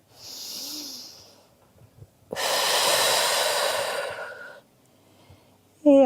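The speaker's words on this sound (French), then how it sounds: "À nouveau, inspirez par le nez. Expirez par la bouche." Yoga breathing during an intermediate flow class: a soft nasal inhale, a pause, then a long, loud breathy exhale through the mouth, close to the microphone, with a brief voiced sound at the end.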